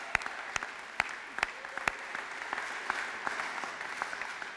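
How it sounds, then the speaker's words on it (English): Sparse, fairly quiet applause from a small crowd at a sports-related gathering, with a few sharp individual claps standing out over a soft steady patter. "I think another round of applause for you guys for putting this all together."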